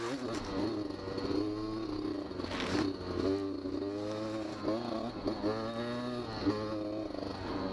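A Beta 200 RR two-stroke dirt bike is ridden on trails at Durhamtown. Its engine buzzes steadily close to the rider, rising and falling in pitch as the throttle changes, with some clatter from the terrain.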